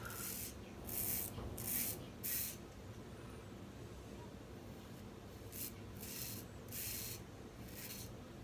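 Muhle R41 safety razor shaving a lathered head, giving soft scraping rasps in short bursts that come in two clusters, close and fairly quiet over a steady low background hum.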